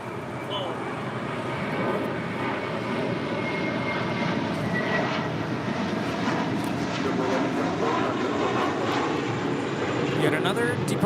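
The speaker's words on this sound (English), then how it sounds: "Yet another departure to JFK. JetBlue 1124 on an A321." A JetBlue Airbus A321 departing LAX for JFK produces a steady, swelling engine roar that holds for the whole stretch, loud and continuous without pauses.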